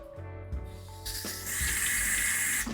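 Tap water runs into a sink while a bottle pump for transferring mead is rinsed out, a steady close splashing hiss that swells louder partway through, with no talking.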